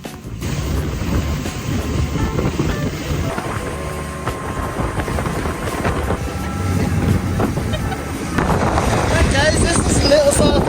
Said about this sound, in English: With the turn of the key, the engines roared to life and we broke away from the harbor